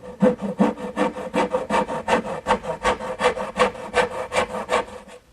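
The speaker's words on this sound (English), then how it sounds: "Now I'll finish cutting out my spinner, making the angled cuts with my little dovetailing saw." A small dovetail saw cuts angled kerfs in wood by hand, with steady rhythmic rasping strokes, roughly four per second, close and clear with no talking.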